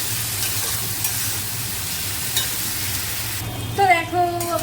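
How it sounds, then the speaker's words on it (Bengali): Masala paste sautés in oil in a pan, giving a continuous close sizzle with stirring scrapes, then louder bursts of spatter toward the end. "দেখো তো চলো মশলাটা কষিয়ে নিই ভালো করে।"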